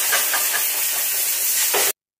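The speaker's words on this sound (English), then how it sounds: "now I'm just going to run through the entire engine bay here with the 120 PSI blowgun" A 120 PSI air blowgun blows out a car's engine bay, making a loud, steady close hiss of compressed air that runs unbroken for nearly two seconds and then cuts off abruptly.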